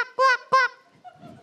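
A person imitates a goose or duck honking for a guessing game, giving two loud nasal honks in quick succession followed by quieter voiced trailing sounds.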